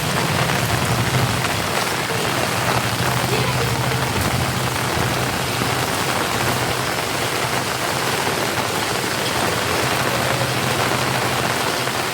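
Heavy rain pours down in a steady, dense roar, with a faint low hum running beneath it.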